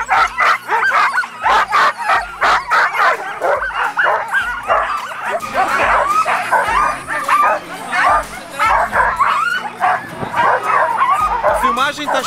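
Several sled dogs bark, yip and whine eagerly in rapid overlapping bursts, eager to run, close and loud, with excited howls mixed in.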